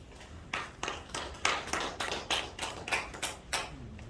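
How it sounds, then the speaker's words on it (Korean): Light applause from an audience at a church welfare seminar held at a seminary, sparse irregular claps spaced apart, fairly faint and somewhat distant, with no speech over them. "자, 우리 박수로 봅시다"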